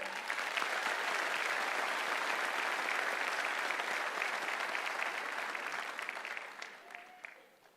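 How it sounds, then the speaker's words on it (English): Steady, dense applause from a sizable crowd at a graduation ceremony, loud and sustained for several seconds before thinning out toward the end. "Let's give them a round of applause."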